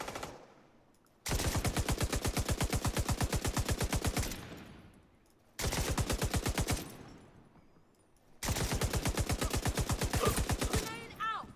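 Rapid automatic gunfire in a VR shooter game comes in three long, loud bursts, each lasting several seconds, with short quieter gaps between them.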